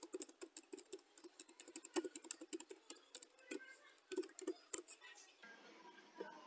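Password being typed on a computer keyboard during a crypto trading site login: a quick, irregular patter of close, crisp key clicks with short pauses, fading near the end.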